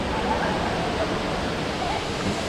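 Steady, loud roar of the tallest indoor man-made waterfall inside the Cloud Forest at Gardens by the Bay, Singapore, a continuous broadband rush filling the space with faint voices underneath.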